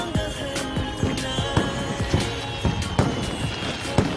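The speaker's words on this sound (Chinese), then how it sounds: "是烟花哎，好漂亮啊！" Fireworks burst outdoors at night in a quick, irregular series of sharp, fairly close bangs, each followed by crackling.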